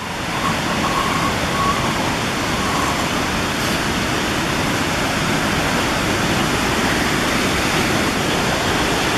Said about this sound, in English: it's a beautiful series of waterfalls and swift moving streams